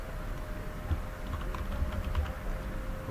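Quiet keystrokes patter on a computer keyboard in a few short irregular bursts over a faint steady hum.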